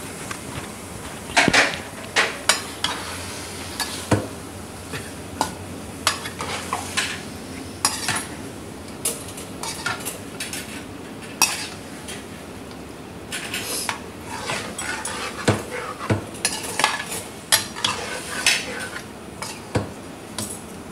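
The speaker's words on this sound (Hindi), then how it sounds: "देखें नाज़रीन, ये भुनने की तरफ आ गई है हमारी कढ़ाई।" Masala of tomatoes stirred in a kadhai over high heat, a spoon scraping and clinking against the metal in irregular bursts over a low steady sizzle, with no voices.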